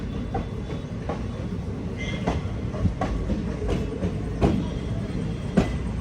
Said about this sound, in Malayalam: കൃഷ്ണരാജപുരത്തിന്റെ ലോക്കോമോട്ടീവ് ആണിത്.